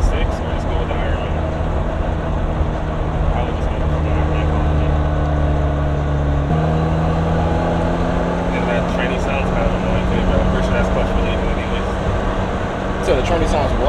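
A running vehicle with a suspected transmission fault gives a loud, steady drone and whine with a shifting pitch, continuous throughout, and people talk over it.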